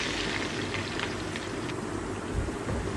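Chopped onions with cloves, black cardamom and star anise sizzling in hot oil in a pan, a steady dense crackle and hiss like light rain, fairly quiet and with no voices.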